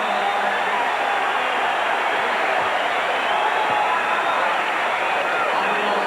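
A basketball arena crowd roars in a steady, loud wash of cheering and noise that fills the whole stretch, with a commentator talking over it.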